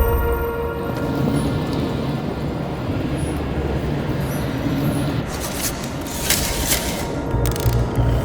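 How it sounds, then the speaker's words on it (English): A chandelier is hoisted by a creaking mechanism in the detective game Nobody Wants to Die, with steady mechanical grinding and ratcheting, then brighter metallic clanks near the end, loud and close with no speech. "Maybe I can lift the chandelier."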